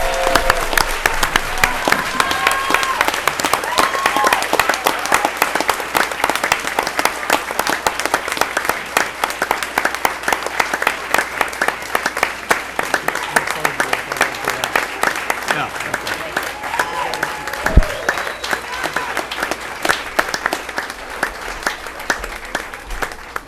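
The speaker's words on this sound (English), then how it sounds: "Can we give the current grade 6 a big round of applause?" An audience at a school committee meeting applauds grade 6 students, giving loud, dense, continuous clapping that holds steady for over twenty seconds, with some crowd voices mixed in.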